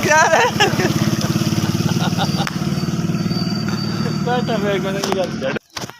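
A motorcycle engine chugs loudly and close with a rapid, steady beat on a waterlogged road after rain, pulling away as voices talk over it, then cutting off abruptly near the end.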